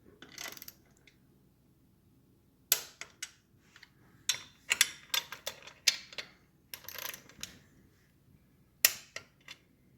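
A torque wrench tightening bolts on the cylinder head and rocker boxes of a 1968 Triumph Bonneville, with sharp metallic clicks and ratcheting ticks in irregular clusters, close and crisp against near silence.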